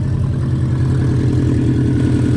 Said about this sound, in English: we've got an exhaust blow.